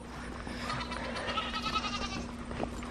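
Goats at a home farm bleating, a few overlapping wavering calls close by in quick succession against a steady low hum.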